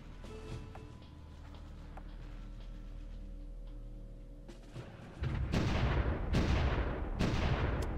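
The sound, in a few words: artillery fire in the video game Supreme Ruler Ultimate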